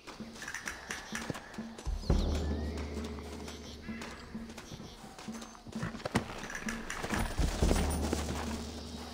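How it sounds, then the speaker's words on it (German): Horses in the video game Red Dead Redemption, with clip-clop hoof beats and stamping at moderate distance, some low thuds and a possible whinny over a busy ambient background, all fairly quiet. "Looks like Carlos left us some horses."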